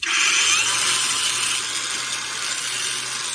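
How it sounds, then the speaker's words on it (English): Angle grinder cutting into a metal part of a scrapped air conditioner, a loud, steady high-pitched grinding whine that holds for a few seconds and eases slightly toward the end, close up with no talking. "Alright, we'll try with the angle grinder then."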